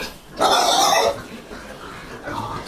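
A grunting burst from vaccinated fattening pigs in a farm pen, loud and close for under a second, then fading into quieter pen noise with a faint second grunt near the end.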